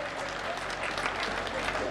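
Audience at a Hindi comedy poetry gathering (hasya kavi sammelan) applauding, a dense, steady wash of many hands clapping that holds at an even level for the full two seconds.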